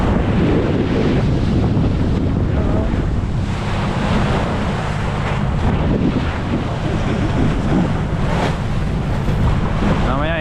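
Strong wind roars steadily by the sea, mixed with breaking surf and waves against a boat, a loud continuous rush with microphone buffeting throughout.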